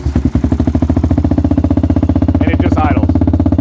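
A Honda TRX 400 EX ATV engine idles steadily up close, a loud, even, rapid pulsing that stays constant throughout, with a brief faint higher sound midway.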